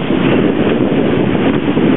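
Steady wind rushing over the microphone with the wash of waves along the hull of a sailboat running downwind off the west side of Lanzarote, continuous and loud throughout with no talking.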